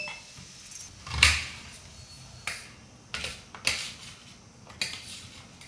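A knife slices three large onions thinly for an Andhra-style drumstick curry, making a handful of sharp, quiet taps on a cutting board at an uneven pace, close by with light clinking between cuts.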